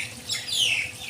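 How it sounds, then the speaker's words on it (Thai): Birds call with high squawking chirps at an outdoor spot beside flowing water with fish. The calls are fairly loud and overlap for about a second, with no talk. "มีเสียงนกร้อง"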